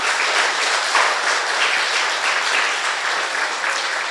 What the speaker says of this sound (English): Let's give a big round of applause to all of our mothers in our community.